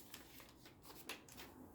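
Plastic bags slide over vinyl record sleeves in a box set, a soft, close crinkling and rustling with a couple of sharper crackles, quiet and with no talk.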